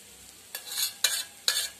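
Fritters fry in oil in a pan, a quiet hiss broken by three distinct bursts of crackling sizzle at an even pace.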